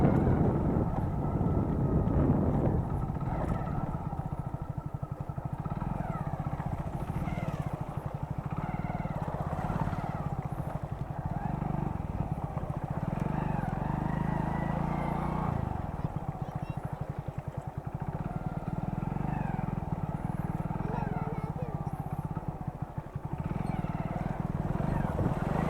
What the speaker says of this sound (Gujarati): પાણીમાં નાખવાની છે બાઇક